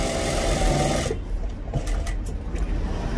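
A close, loud sewing machine whirs steadily while stitching the gera (hem flare) of a men's kameez, then drops to a softer running hum.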